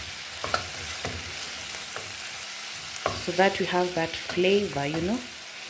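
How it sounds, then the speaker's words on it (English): Steamed onions sizzle steadily in a pan as garlic goes in for homemade chilli, with a few scraping stirs and clicks, while a person talks over the frying. "we are going to add our garlic into the mixture so that we have that flavor"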